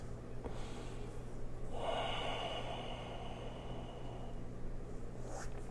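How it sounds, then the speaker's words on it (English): Close, audible breathing from a person holding a gentle yoga forward-fold stretch, with a sharp intake, then a long drawn-out exhale and a softer breath at the end. "Make sure you breathe."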